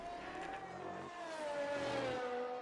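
A McLaren race car in a sim racing game drives through the final corners at Imola, its engine a steady rising whine that climbs in pitch and grows louder toward the end, with no talk.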